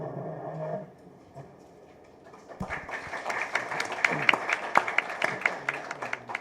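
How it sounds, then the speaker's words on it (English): At a renewable energy policy event, a speaker's voice trails off and then an audience breaks into applause, scattered claps quickly building into steady, moderately loud clapping from a seated crowd. "Yes, I think that applause is well deserved."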